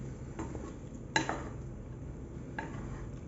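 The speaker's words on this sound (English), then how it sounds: "So now we'll mix the Maggi once." Maggi instant noodles stirred in a pan, with a few soft, brief scrapes and one louder clink of a utensil against the metal over quiet background hiss.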